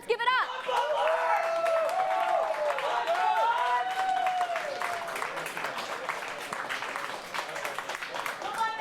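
A home crowd at a collegiate esports Rocket League championship breaks into sustained applause, dense clapping filling the arena for several seconds while an announcer's voice carries over the start.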